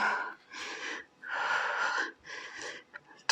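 Several forceful breaths are pushed out during an at-home thigh, abs and glute toning workout, three long airy bursts separated by short pauses, close and fairly soft.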